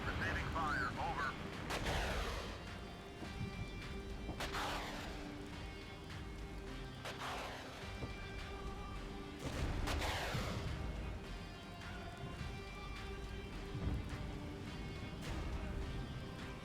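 Gunfire and artillery in the Regiments wargame: several heavy booms and bursts of shooting land at intervals over a steady battle din, with voices talking underneath.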